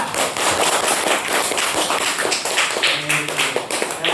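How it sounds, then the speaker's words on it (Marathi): A crowd claps loudly for quiz participants, with dense, rapid claps in a steady, vigorous burst lasting a few seconds and almost no talking. "अरे जोरात टाळ्या वाजवा"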